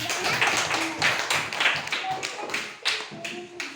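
A class of students clapping their hands, a quick run of sharp, uneven claps at close range, with faint voices underneath.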